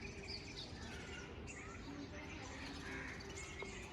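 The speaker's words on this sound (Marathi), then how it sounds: "माझ्या पाठीमागे तुम्हाला पक्ष्यांचा आवाजसुद्धा येत असेल." Birds chirp and tweet near a Datta temple on the bank of the Pravara river, a steady, busy twitter with faint calls scattered over a constant outdoor hum and rustle.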